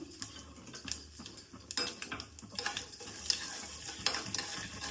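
Chili powder being stirred in a pan for a Karnataka coconut tambuli saru: a soft, continuous scraping and stirring with a faint sizzle and some light clinks, close and steady, with no talking.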